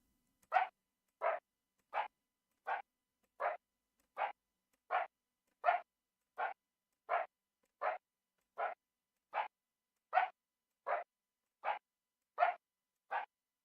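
Distant coyote barks built as video game sound design in Wwise repeat about eighteen times. Each short, faint yelp is separated by an even gap of silence, producing a steady, measured rhythm with nothing else audible.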